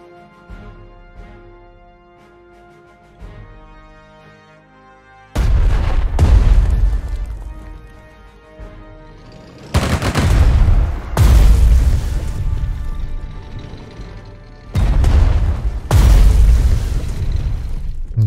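Artillery fire in the video game Strategic Mind: Blitzkrieg, heavy booming impacts arriving in several loud bursts over a quiet musical background, each blast rolling out with a long low rumble.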